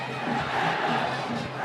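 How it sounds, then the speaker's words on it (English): A schools rugby league crowd roars and cheers for the Tigers in a steady, broad wash of many voices, fairly distant and even throughout. "The crowd trying to get behind the Tigers with the College"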